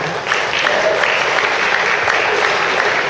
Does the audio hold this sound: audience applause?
yes